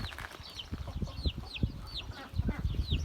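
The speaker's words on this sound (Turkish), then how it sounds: "Tavuklarımız da büyüyor. Bir tanesi horoz, bir tanesi tavuk." Chickens cluck in short, uneven bursts close by, with higher chirpy calls scattered over a busy farmyard background.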